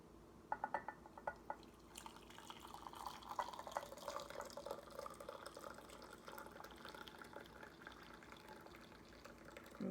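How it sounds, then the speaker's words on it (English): Herbal ayurvedic kada poured from a pot into a glass jar, a soft continuous trickle with a few drips and clinks against the glass, quiet and close, with no talking. "So I'm gonna pour that into the glass."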